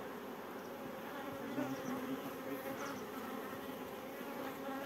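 A swarm of honey bees buzzes steadily at a beekeeping site, a dense droning hum that is continuous and moderately close, with no talking.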